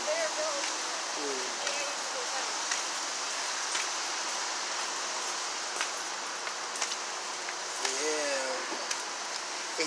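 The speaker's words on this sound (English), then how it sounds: "It's raining today." Rain falling outdoors, a steady soft hiss of drops on surfaces throughout, with occasional faint tones over it.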